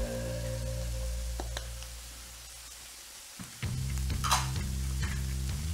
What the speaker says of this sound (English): So the reason we add these spices now is that they bloom in oil.